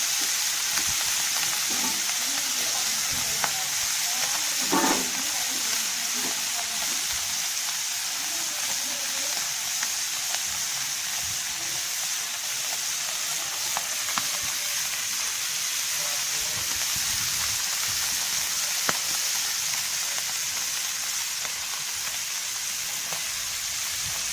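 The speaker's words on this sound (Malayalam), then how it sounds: "അങ്ങനെ നമ്മുടെ കടുകമീൻ പൊരിച്ച് റെഡി ആയിട്ടുണ്ട്" Small kaduga catfish frying in a pan, a steady, close hiss of sizzling oil that runs unbroken throughout, with occasional faint pops and clinks.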